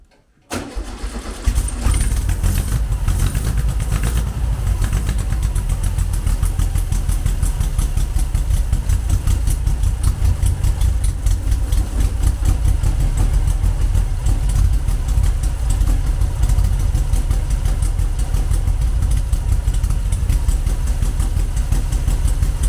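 A VW Beetle engine with an EFI system cranks and catches after a moment of silence, then runs steadily with a loud, even, slightly rough idle that holds throughout, close up with no talking.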